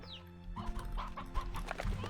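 Chickens in the video game Slime Rancher 2 cluck in a quick, faint run of short calls over a low background hum.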